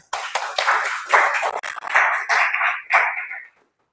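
A classroom group claps for a student team's mind map presentation, several seconds of close, lively clapping in uneven bursts that stops abruptly into silence.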